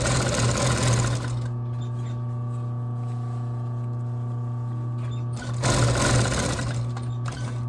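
Sewing machine top stitching a Prada bag lining, a loud steady mechanical whir that runs in bursts, eases into a lower hum in the middle, then speeds up again, heard close.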